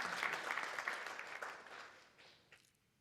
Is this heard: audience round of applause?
yes